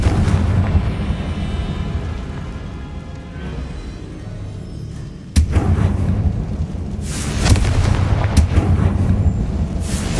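A Confringo explosion spell in Hogwarts Legacy sets off a sudden sharp crack followed by heavy booming rumble and debris-like bursts, loud and close, with a low roar continuing before and after.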